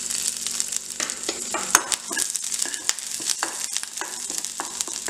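Finely chopped garlic sizzles in refined oil in a pan over low heat, a steady close frying hiss broken by scattered crackles and stirring scrapes, with no talking.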